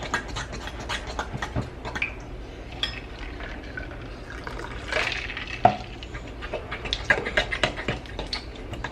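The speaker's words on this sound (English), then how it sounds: "So you stir this up and make it like a pancake batter consistency." Wet, sloshing stir of pancake-like batter being mixed in a bowl, with irregular scraping and clicking of the utensil against the sides, close and moderately loud.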